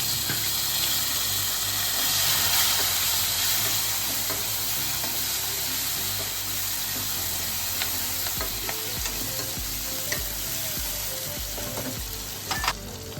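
Chopped tomatoes hiss and sizzle steadily in a hot pan, with a spoon scraping and stirring at intervals, close and continuous.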